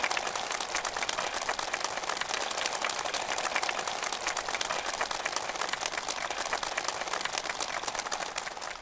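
Warm, sustained applause from a crowd of participants at a ceremony where housing permits are handed over, a dense, steady crackle of many hands clapping that stays loud and even throughout.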